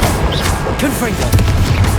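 Confringo, a fiery explosive spell in Hogwarts Legacy on PS5, bursts with a dense booming blast over continuous game sounds, with a voice speaking the incantation and a second heavier thump near the end.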